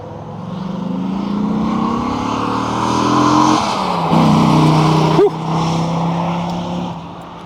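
A 1996 Dodge Viper GTS engine roars loudly and steadily as the car accelerates close by, its pitch climbing through gear changes before a sharp shift and a sustained drone as it passes.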